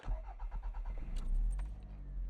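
A Toyota MR2 under restoration, very low on fuel, idles before a drive: a close low engine rumble with a few light clicks and rattles near the car, no talking.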